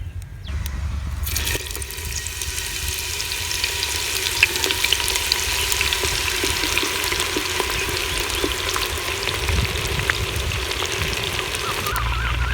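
Onions fry in hot cooking oil in a clay pot, giving a continuous loud crackling sizzle with steady bubbling and occasional stirring scrapes close by.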